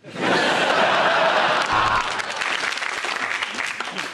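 Studio audience at a comedy panel show bursts into loud, dense applause that swells quickly and holds, mixed with some chuckles, then thins slightly toward the end.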